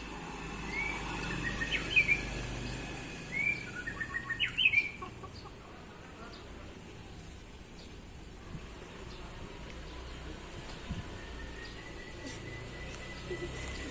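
Chickens clucking and a rooster calling outdoors, several bursts of clucks early on, then a low continuous background of ambient noise with faint bird chirps, moderately distant.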